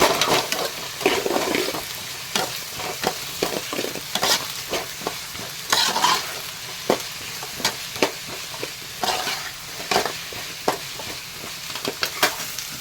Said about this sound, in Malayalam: നന്നായിട്ടൊന്ന് ഇളക്കി കൊടുക്കണം